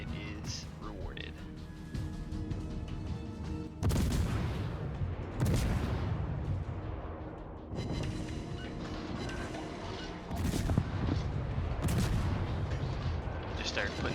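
Gunfire from a Mogador tier 9 French destroyer in World of Warships: a series of sharp, booming cannon salvos spaced a couple of seconds apart over a constant engine and sea rumble, with someone talking throughout.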